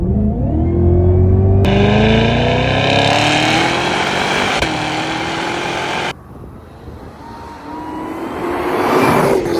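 A Cadillac CTS-V with a supercharged 6.2-litre engine and 1.7-litre supercharger revs hard and loud up close, its pitch climbing in sweeping pulls. The roar drops sharply, then builds again toward the end.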